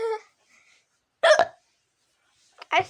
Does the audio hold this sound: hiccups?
yes